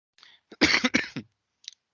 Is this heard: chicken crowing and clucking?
no